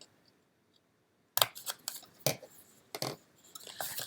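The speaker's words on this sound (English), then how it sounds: "I'm just going to cut up to that line" Scissors snip through paper card along a line in a handful of short, crisp cuts, close and fairly loud, after a second or so of near silence.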